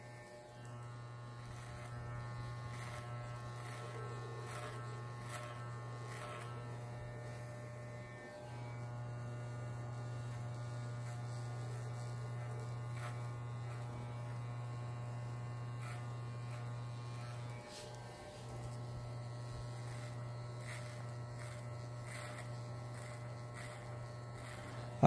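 An electric hair clipper marks the guideline of a fade haircut with its tip, giving a steady close buzz with a low hum that runs almost continuously and drops out briefly twice.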